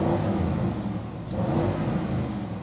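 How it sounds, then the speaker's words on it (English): A 2025 Audi RSQ8 Launch Edition with a 4.0 TFSI V8, switched into an RS drive mode, gives a steady, close, rumbling engine note that swells, dips midway, then swells again, with no talk. "Now if I pop it into one of the RS modes, you'll hear it change."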